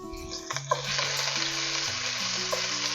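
Onion hits a hot pan and sizzles loudly and steadily, a dense close frying hiss that begins with a sharp burst and holds for the rest of the moment, no voices over it.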